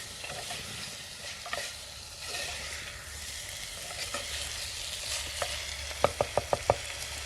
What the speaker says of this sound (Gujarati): ઘડી કકડવા દઈએ પછી પાણી નાખીશું